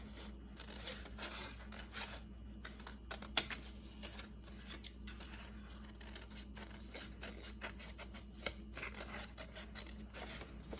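Scissors snipping through paper while a folk art tree is cut out as a single piece, giving a steady run of soft, close crisp cuts and rustles with no talk.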